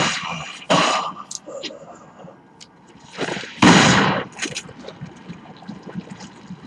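Point-blank shotgun and pistol blasts from the survival horror video game Resident Evil 4, several loud sharp bursts spaced a few seconds apart with ringing tails and game ambience between them.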